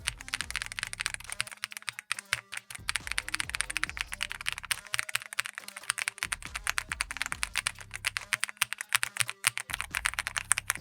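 Rapid clacking keystrokes on a mechanical keyboard, close and crisp, in bursts of fast typing with brief pauses between.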